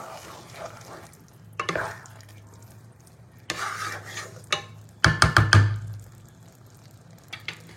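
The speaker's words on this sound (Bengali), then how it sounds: "দিয়ে একটু মিশিয়ে দেবো।" Saffron-soaked milk being stirred into a pot of duck egg badshahi polao, intermittent scraping and wet rubbing bursts of a spoon against the pot, with a cluster of quick louder scrapes midway.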